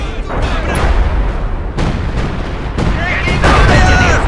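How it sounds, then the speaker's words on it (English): Artillery fire in the World War II strategy game Company of Heroes 2, a dense series of booming blasts and bursts repeating every second or so, loud and close, mixed with shouted soldier voices. "Enemy fire incoming!"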